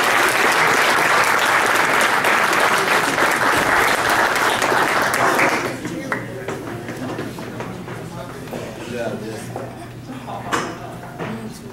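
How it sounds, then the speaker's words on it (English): Loud, dense applause from a crowd at a high school wrestling awards program, sustained for about five seconds before dropping off into quieter murmuring, scattered claps and faint clatter. "So give him another round of applause"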